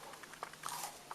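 A few crisp crunching bites into crunchy Passover forgotten cookies, close but faint, with short irregular cracks over about a second and no talking.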